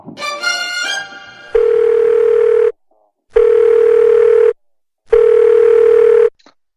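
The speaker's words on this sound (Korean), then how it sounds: "전화를 한번 걸어볼게요" A telephone ringback tone plays while a call is placed, three long steady rings separated by short silent gaps, loud and close, preceded by a brief melodic chime.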